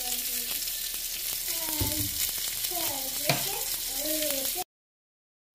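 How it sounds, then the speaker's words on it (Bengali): Pangasius fish frying in hot oil gives off a close, constant sizzle, with a voice talking over it part of the way before the sound cuts off abruptly. "তো এপাশে মাছগুলো ভাজি হচ্ছে"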